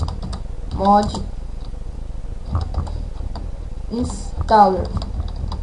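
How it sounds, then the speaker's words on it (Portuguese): Short bursts of typing on a computer keyboard, clicks coming in quick clusters, enter a search for GTA San Andreas mods while someone talks over them in Portuguese. "No Google você vai pegar e vai escrever GTA"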